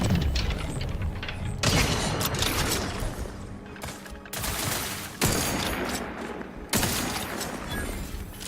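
Rifle gunfire in a video game, loud sharp shots cracking in irregular bursts with dense rattling volleys and rumbling booms echoing between them across a valley.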